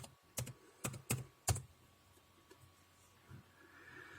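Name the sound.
typing a password on a computer keyboard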